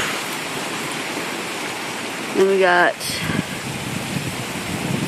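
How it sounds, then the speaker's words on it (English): Heavy rain pours steadily outdoors during Hurricane Isaac, with a storm-downed tree and power line nearby, a dense continuous hiss throughout; someone speaks briefly partway through. "There goes the rain."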